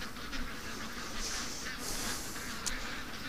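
Ducks being raised on a farm quack faintly and intermittently at a distance over a steady wash of outdoor background noise.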